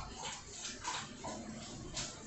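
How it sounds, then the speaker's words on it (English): A dog faintly whimpering and lapping water: soft, intermittent wet licks and small whines that stay quiet under a low background hum. "That's the dog, guys."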